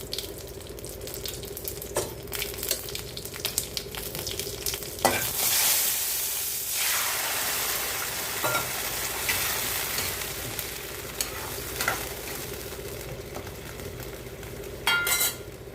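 Steady close sizzle of vegetables frying in a pan with popped mustard seeds and asafoetida, with a utensil scraping and stirring throughout and occasional light clinks.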